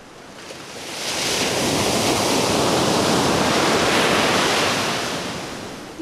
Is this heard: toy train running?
no